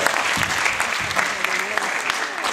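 A youth-conference audience claps along to the rhythm of an eight-year-old drummer, a dense, loud, continuous wash of applause filling the room.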